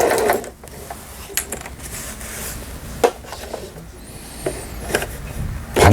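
A Lion Diana home sewing machine running close by, its needle mechanism clattering in short uneven bursts with small mechanical clicks and gaps between, no voices.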